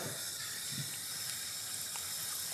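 Portions of Christmas carp in herbed breadcrumbs frying in hot oil and clarified butter, giving a steady, soft hissing sizzle with faint crackles, close by and with no voices.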